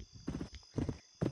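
Horse hooves clip-clop in the Roblox game Westbound, three quick bursts of close, hollow hoof beats at an even trotting rhythm over a faint steady tone.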